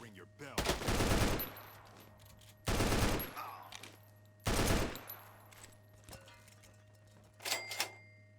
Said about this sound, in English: this machine gun's pretty good